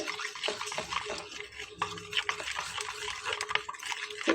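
Refined flour and room-temperature water are whisked into a thin batter in a bowl, with soft, quick wet sloshing and stirring strokes close by in a continuous, uneven rhythm.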